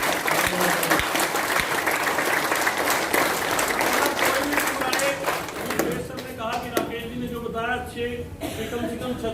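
Hearty applause from an audience at a Goa tour meeting at Hotel Godwin: dense, loud clapping for several seconds, then thinning out into scattered claps as a voice speaks over the tail end.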